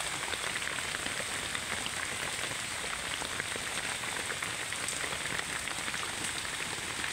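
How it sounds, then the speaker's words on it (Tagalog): Steady rain pours down continuously, a dense hiss of drops striking surfaces with no voices, even and unbroken throughout. "Medyo makabasa na itong ganitong ulan eh."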